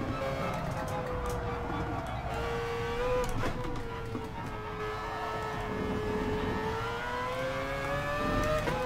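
A Mazda RX-Vision GT3 concept race car engine in Gran Turismo Sport drones steadily with a rising and falling pitch, as if shifting through gears, with speech faintly present underneath.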